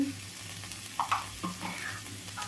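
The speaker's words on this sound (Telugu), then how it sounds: "చిక్కుడు చిక్కుడుకాయలని ఇట్లా వేయించుకున్నామండి" Broad beans (chikkudu) sizzle steadily in a hot pan while being stirred, with a soft continuous frying hiss and a few scraping strokes close up, no talking.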